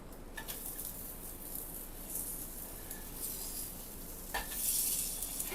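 Protein pancakes sizzle faintly in a pan while being flipped, a soft steady frying hiss broken by a few light scrapes and taps of a utensil, quiet and close.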